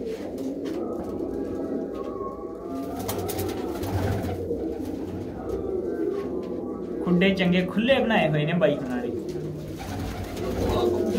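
Pigeons coo steadily in open lofts while someone talks over the birds, with a brief brighter clatter midway.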